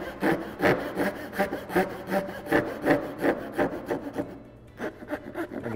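A hand saw cuts dovetails in wood, right-hand angled cuts for a dovetailed box, with steady back-and-forth strokes at an even rhythm, close and fairly loud, then a short pause before sawing resumes.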